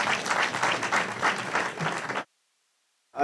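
Dense round of audience applause for a minister at a high-level meeting on uranium mining, loud and sustained for about two seconds before cutting abruptly to silence, with a brief burst returning at the very end.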